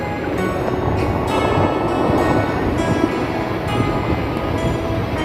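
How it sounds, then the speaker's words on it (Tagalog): Waves breaking against rocks on a seashore near a village, a steady, loud, continuous wash of surf with no voices. "Hingay ng bato pag tinatamaan ng alon"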